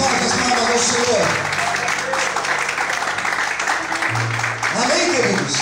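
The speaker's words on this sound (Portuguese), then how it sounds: "glorifique e aplauda ao nome dele bem forte" Church congregation clapping strongly in praise, a continuous dense patter of applause with shouting voices and a sustained musical tone underneath.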